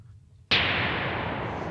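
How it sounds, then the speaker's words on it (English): Pink noise from a Dystopia synth module switches on abruptly after a brief quiet moment and holds as a steady, full-bodied hiss. "Now let's try pink noise."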